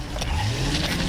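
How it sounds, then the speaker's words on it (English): A stolen police patrol car pulls away, its engine rising in a brief, steady drone with a faint upward sweep, close and fairly loud with no voices. "she jumps into their patrol car and takes off"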